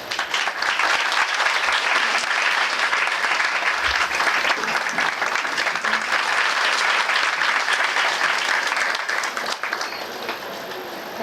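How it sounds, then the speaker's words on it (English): An audience at an international conference applauds for a guest, giving a sustained burst of dense, loud clapping that continues for about ten seconds before tapering off. "A big round of applause, please."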